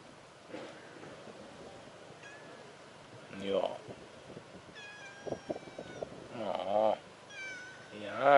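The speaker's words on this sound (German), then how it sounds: "Da ist wieder die Katze mit dem komischen Puschelschwanz." A cat with a fluffy tail meows repeatedly on a beach, with several drawn-out, wavering cries over faint surf and wind, while someone speaks to it in between.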